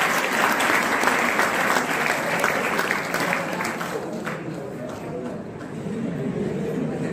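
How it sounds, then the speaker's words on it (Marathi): An audience claps loudly and continuously at a district-level talent hunt and poster competition prize ceremony, a dense, sustained applause that eases slightly toward the end. "वा, टाळ्या वाजवा."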